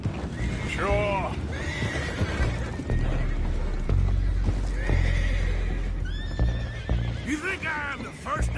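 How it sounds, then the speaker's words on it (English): Horses whinny and neigh repeatedly over hoof clip-clop in the Red Dead Redemption 2 video game, with loud rushing ambience and clattering underneath throughout. "go find out about those horses down below"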